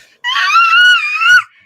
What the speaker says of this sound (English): Don't scream too much. You might blow someone's ears.